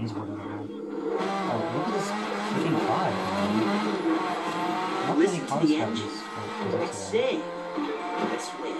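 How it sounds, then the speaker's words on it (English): The in-game Mazda RX-7 race car in The Crew 2 revs and accelerates on a drag strip, the engine rising and falling in pitch with occasional tyre squeal, while someone talks over it continuously. "the launch car is as you can see Mazda RX-7"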